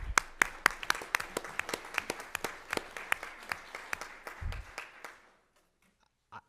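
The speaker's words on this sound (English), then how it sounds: "let's give them a round of applause" A crowd at a school district governing board meeting applauds with steady, brisk clapping for about five seconds, then it fades out to near silence.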